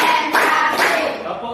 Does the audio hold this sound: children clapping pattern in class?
yes